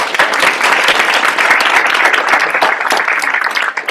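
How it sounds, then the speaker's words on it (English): A room full of guests at a seminar guest event claps for the graduates, a loud, dense, sustained wash of hand claps that holds steady throughout and thins slightly at the very end. "So please give them another round of applause."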